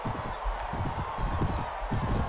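Horse hooves clip-clopping in the medieval combat game Mount & Blade: Warband, a steady rhythmic patter of steps under a continuous background din, moderately loud with no clear talking.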